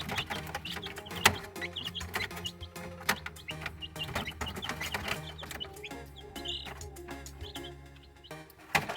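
Young chicks cheep and cluck in an irregular chorus in snowy winter, a busy mix of short chirps and clucks close by, with occasional louder calls.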